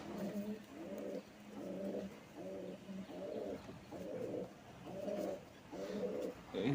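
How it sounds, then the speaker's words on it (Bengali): Pigeons coo in a loft in a soft, regular series of about eight repeated coos. The calls are faint and steady against a quiet background. "কবুতর একটা"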